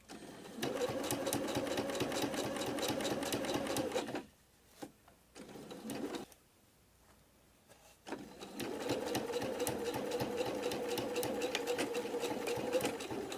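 A sewing machine fitted with a quarter-inch foot stitches an autumn-themed art quilt, a fast, steady mechanical chatter that runs, stops for a few seconds with small clicks, then starts again at close range.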